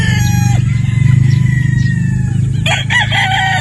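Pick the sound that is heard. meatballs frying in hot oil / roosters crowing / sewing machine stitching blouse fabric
roosters crowing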